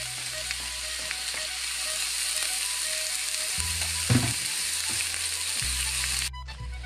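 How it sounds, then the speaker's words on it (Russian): Bacon and onion fry together in a pan for Lithuanian kugelis, giving a steady, close sizzle throughout with a few quiet stirring clinks. "И обжариваем бекончик вместе с луком."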